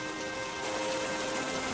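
Steady rain pours down in a continuous, even hiss with no breaks or voices over the short stretch.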